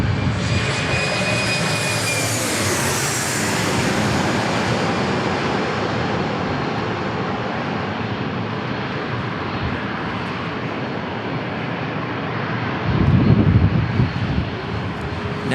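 A DHL cargo jet takes off from San Diego International Airport with a loud, sustained jet-engine roar and a high whine that fades as it climbs away, then a brief low rumble swells near the end.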